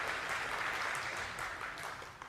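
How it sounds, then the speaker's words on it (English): A lecture audience breaks into steady applause that stays dense and even for about two seconds, then eases slightly toward the end. "I've never gotten applause for messing up a visual aid before"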